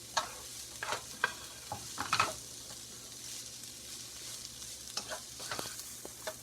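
Egg roll filling for homemade Chinese egg rolls being stirred and mixed together in a pan, with soft sizzling under irregular scraping strokes and a few sharper clacks, close and fairly quiet.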